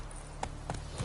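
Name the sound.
horse Roach's hooves clip-clopping, from the video game Witcher III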